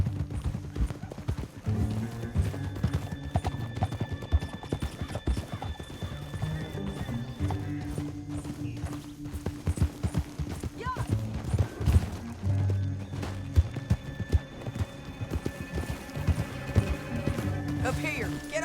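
Horses in Red Dead Redemption 2 clip-clop and gallop steadily, their hooves thudding and whinnies rising over a bed of game music, with a character speaking partway through.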